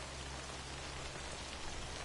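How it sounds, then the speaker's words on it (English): Timefall rain in the Death Stranding video game, a steady, dense hiss of falling rain with a low rumbling undertone, continuous and even throughout with no voices. "Can you wait out the rain? Will it eventually go away, the timefall?"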